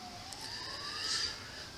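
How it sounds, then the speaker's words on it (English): A siren wails steadily in the background, its pitch rising slowly and holding high over a low hum of distant noise, continuous and moderately far off. "Here's sirens in the background."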